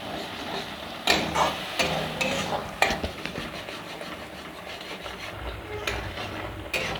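A spoon scrapes and stirs ground mustard paste into a fish curry in a metal pan, with repeated rubbing strokes and a few sharp clinks against the pot, close and fairly quiet.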